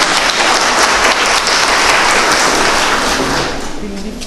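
Dense, loud applause from an audience at a community assembly session honoring local communities and their leaders, a steady wash of clapping that tapers slightly at the end.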